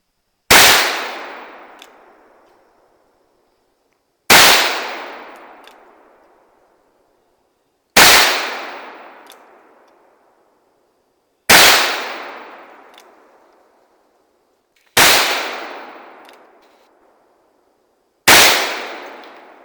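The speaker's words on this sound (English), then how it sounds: "Yes, that was 6 shots." Six loud shots from a .44 Magnum Model 29 revolver, an early-1980s gun loaded with cheaper Blazer ammunition. The blasts are evenly spaced about three and a half seconds apart, and each one rings out and decays before the next.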